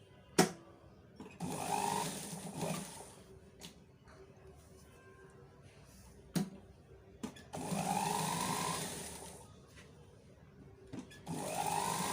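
A sewing machine stitches sleeve and neck seams on fabric in repeated bursts of a few seconds each, buzzing close and fairly loud, with quiet pauses between runs.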